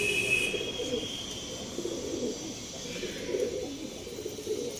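Pigeons in a loft give off soft, continuous cooing that rolls on steadily at close range, with a faint background hum and no talk over it.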